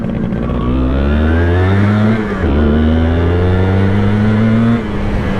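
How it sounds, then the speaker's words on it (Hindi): A 125cc motorcycle engine, a Yamaha YB125Z DX or Honda CB125F, revs loudly and close up, rising in pitch, dipping briefly and climbing again, with no talk over it. "बाइक बताती है कि भाई आप रेस दे रहे हो हैं"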